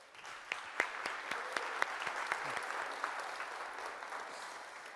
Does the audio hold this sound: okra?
no